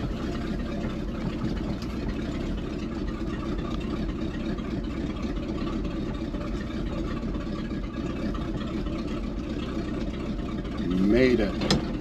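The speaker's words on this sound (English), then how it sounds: "Just gonna let her idle down by herself," A 1979 Chevrolet C20 square-body truck with a 454 V8 idles steadily and close by for the full stretch, a constant low rumble, with a brief louder swell near the end.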